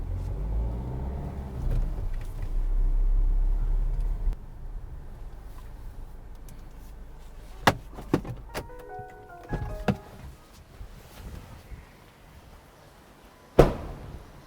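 A 2020 Hyundai Creta SUV with auto hold pulls away in first gear. A low engine rumble swells and then fades, followed by scattered clicks and knocks inside the cabin.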